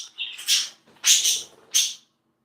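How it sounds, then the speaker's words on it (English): Pet birds indoors let out three loud, close, harsh squawks and chirps in short bursts separated by brief pauses, with no talking. "Look at my birds, bro."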